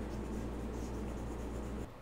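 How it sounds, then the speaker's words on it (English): Felt pen tips scratch and rub steadily across a paper disc as sections are colored in red, blue and green, a soft continuous close-up scribbling that stops abruptly near the end. "Now take your red, blue, and green felt pens and use them to fill in the sections of your disc."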